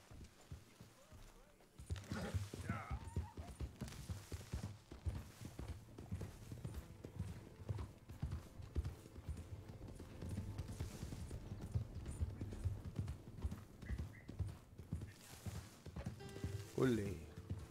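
Horse hooves clip-clop in a steady, quick rhythm in the Western video game Red Dead Redemption, set against a low ambient background, with a brief whinny-like sound near the end.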